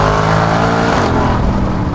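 A loud, heavily modified Mercedes G-Class accelerating hard, its engine roaring close and continuous with a dense, throaty rasp that shifts pitch as it pulls through the gears.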